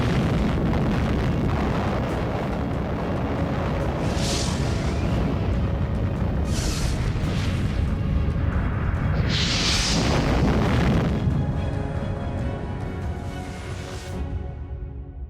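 Atomic bomb blast sound effect evoking the bombing of Hiroshima and Nagasaki, a loud sustained roaring rumble with several surging bursts layered over it, fading away at the end.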